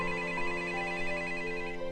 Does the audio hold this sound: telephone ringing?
yes